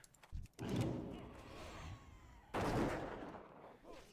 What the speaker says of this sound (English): You'd think all the gunfire would arouse some attention, hey?